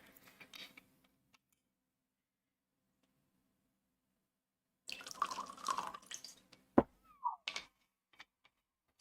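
Liquid poured from a decanter into very wide glasses, heard as a short burst of splashing and trickling, then a sharp clink and a few brief drips, all close and fairly quiet after a silent stretch.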